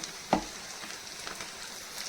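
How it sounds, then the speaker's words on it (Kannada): Paneer frying lightly in butter in a pan, a faint continuous sizzle with one sharp clack of a utensil near the start. "ಲೈಟಾಗಿ ಪನ್ನೀರ್ನ ಫ್ರೈ ಮಾಡ್ಕೊಂಡು ನೋಡಿ"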